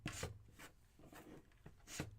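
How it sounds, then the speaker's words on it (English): Light sanding of the wooden top of a small craft basket: soft, close rasping strokes in a slow back-and-forth rhythm, quiet and alone. "So just lightly sand our top to our basket."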